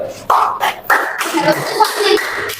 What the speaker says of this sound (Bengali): হাততালি দাও, হাততালি দাও।